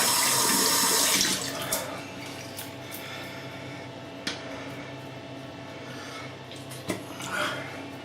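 Tap water runs steadily into a sink during a wet shave with a Focus Dynamic R48 SE razor, a continuous close splashing wash with a louder burst at the start and a few small knocks.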